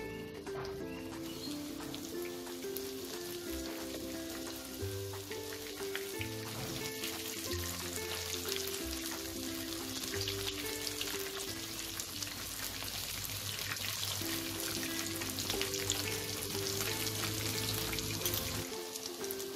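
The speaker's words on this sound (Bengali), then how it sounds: "অল্প অল্প করে দিয়ে আমি এটাকে ভেজে নেব।" Cabbage dhoka cakes fry in hot oil, a steady close sizzle running throughout beneath continuous background music.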